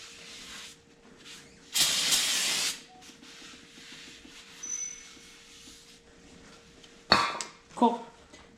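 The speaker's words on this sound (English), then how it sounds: "go ahead and spray some brake cleaner" Brake cleaner sprays from an aerosol can onto the front brake of a 1999–2004 Mustang GT, a loud one-second hiss followed later by two shorter bursts, with quiet workshop noise between.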